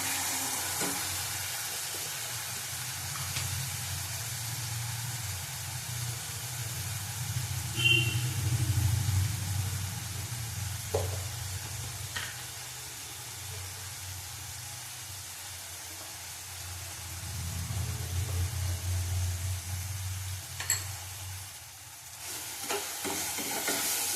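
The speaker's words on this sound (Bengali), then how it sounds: "পেঁয়াজটাকে ভালো করে ভাজবো।" Onions frying in a pan give a soft, steady sizzle that runs throughout, joined by a low rumbling hum and a few faint clicks.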